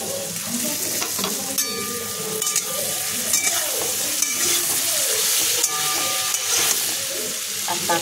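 Onion frying in a pan while cooking chicken butter masala, a loud, close, steady sizzle with occasional stirring scrapes and clinks.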